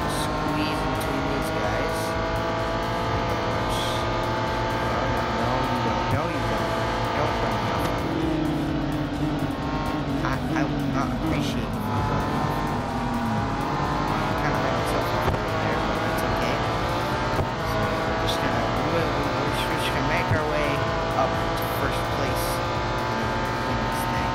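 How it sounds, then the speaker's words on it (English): Race car engines roar continuously in the Real Racing 3 mobile game, a loud sustained whine with shifting pitch as cars accelerate and overtake, with talk blending in under the engine noise. "Here we go, alright, we're just gonna overtake Moises"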